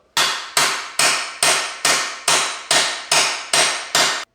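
A hammer used as a persuader, with a T-bar, to bend metal back on a track-day machine, striking about nine evenly spaced, loud ringing blows close up with a short decay after each.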